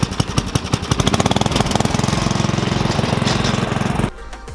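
A tractor engine chugs loudly and steadily with a fast, regular knocking rhythm, then cuts down abruptly near the end.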